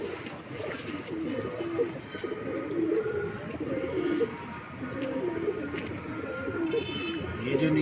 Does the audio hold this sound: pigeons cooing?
yes